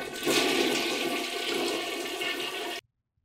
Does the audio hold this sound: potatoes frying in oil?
no